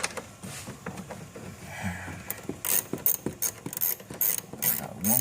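A ratchet tightens parts on a Land Rover Range Rover engine during a spark plug job, giving rapid, close, repeated metallic clicking strokes with small clunks between.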